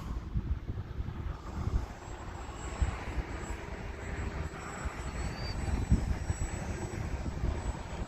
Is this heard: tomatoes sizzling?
no